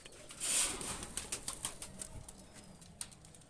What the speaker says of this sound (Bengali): ছেড়ে দেখাচ্ছি কবুতর